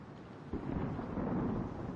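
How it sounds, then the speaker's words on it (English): Distant rolling thunder from a storm in the game Modern Warfare, a low broad rumble that swells about halfway through and holds steady, with no voices. "I like the static thunderstorm in the distance."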